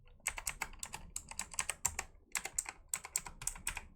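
Close, crisp keystrokes on a new computer keyboard come in quick bursts of clacks with short pauses between runs.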